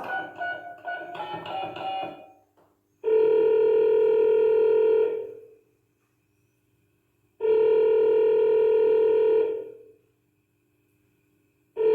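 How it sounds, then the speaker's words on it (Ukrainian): Staged as part of a children's puppet show, someone calls the emergency number 102. Quick keypad beeps come first, then two long, clear ringing tones of about two seconds each, separated by silence. "До рук слухавку він взяв і номер цей ураз набрав."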